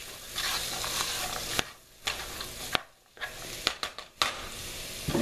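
Olive oil being stirred in a frying pan makes a close, hissing sizzle with sharp scrapes and clicks of the utensil, broken by short quiet gaps between stirring strokes.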